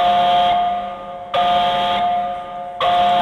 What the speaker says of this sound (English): That's the klaxon. I'm an idiot. Air raid siren.